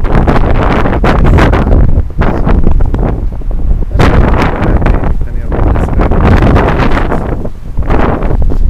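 Strong gusting wind buffets the microphone among large buildings, a loud, rumbling roar that surges and drops in irregular bursts with brief lulls and never lets up.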